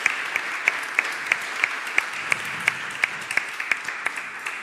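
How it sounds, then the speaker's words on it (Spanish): A symposium audience applauds the speakers at the close of a rewilding conference panel, a steady, full round of clapping with sharp individual claps standing out, no speech over it. "Uma salva de palmas aos nossos oradores deste painel."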